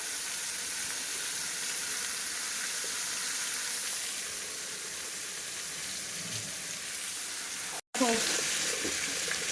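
Cauliflower and pumpkin frying together in a pan, giving a steady close hiss that stops abruptly, then returns slightly louder with faint clatter.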